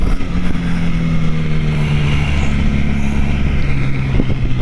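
A loud motorcycle engine drones and hums steadily with slight pitch shifts, a close, throaty motor held at high revs near 10,000 RPM with no voices.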